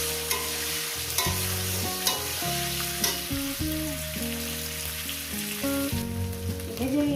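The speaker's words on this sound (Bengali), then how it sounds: "এটাকে আমি চার মিনিট ভেজে নেবো" A spice paste with green chilli and tomato fries in a pan for a fish curry. A continuous close sizzle with soft stirring runs beneath a prominent musical melody.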